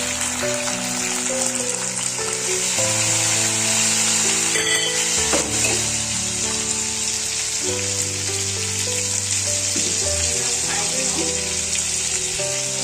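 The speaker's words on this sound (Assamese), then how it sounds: "এয়া পিঁয়াজ অলপ দি পেলাই ভালদৰে লৰাই দিছোঁ" Onion frying in a pan for crab gravy gives a steady, bright sizzle that runs throughout, with occasional stirring scrapes, under sustained background music.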